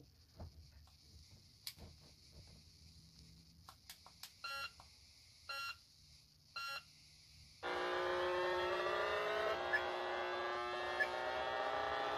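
An F1 race car in the 1987 NES game Rad Racer starts with short chiptune beeps during car selection, then a steady buzzing synthesized engine drone switches on and runs loud and constant.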